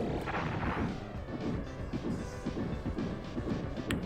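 Rapid-fire blaster shots against the dancing insector boss in Star Fox, a dense, steady barrage of harsh bursts with heavy booming crashes throughout, loud and close with no talking.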